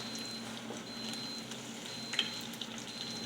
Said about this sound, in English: Just frying them so the oil's kind of level with them. I'm using a canola oil.